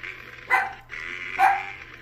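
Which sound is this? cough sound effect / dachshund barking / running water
dachshund barking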